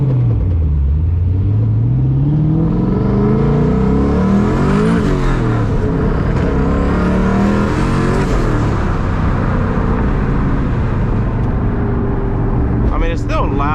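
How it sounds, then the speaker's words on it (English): A turbocharged SVT Cobra with a new exhaust drones loudly from inside the car, its engine pitch rising and falling with acceleration and shifts, and a faint turbo whistle rides over the rumble. Someone talks throughout. "The turbos sound absolutely beautiful. You can hear the spool, you can hear the blowout valve"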